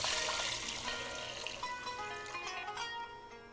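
Water poured from a container into a pot for rice, a continuous splashing pour that starts loud and tapers slightly over a few seconds, heard alone without talk.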